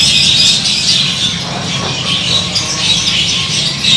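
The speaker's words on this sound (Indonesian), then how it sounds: "nama burungnya Dopin, harganya 650" A Dopin songbird at a bird market chirps and whistles in repeated bright bursts over a busy low background hum, with no clear talk.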